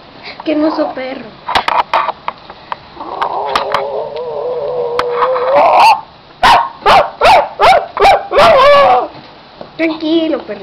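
Cartoon dog barks in a Littlest Pet Shop animated show, a rapid run of six or seven sharp, loud barks following a sustained whimpering yelp, with characters speaking around it.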